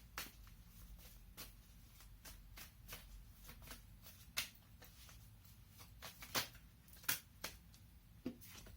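A deck of tarot cards being shuffled up close and quietly, a run of soft riffling and irregular sharp card snaps and taps, with no speech.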